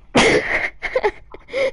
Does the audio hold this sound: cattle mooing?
no